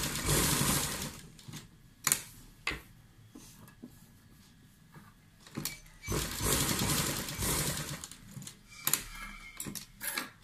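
A sewing machine stitching along the edge of a sleeve, loud rapid mechanical whirring runs of a few seconds each, separated by short pauses and handling clicks, close up with no talking.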